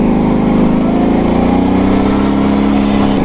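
A Kawasaki KFX700 ATV engine takes off, a loud, close, steady drone that climbs slightly in pitch as it pulls away.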